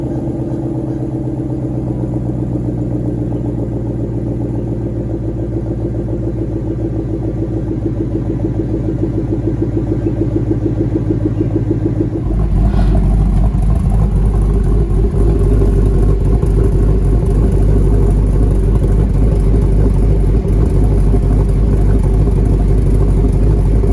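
A 2014 Ford Mustang GT V8 running a Ford Performance Track Cal tune idles steadily nearby, a loud low rumble that shifts to a rougher, choppier lopey idle midway through, with no talk.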